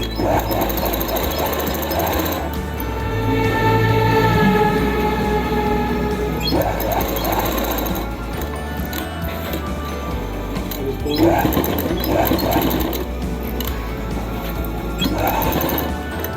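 A sewing machine stitches a palazzo pant with elastic, running in several bursts of rapid needle chatter separated by brief pauses, close and fairly loud.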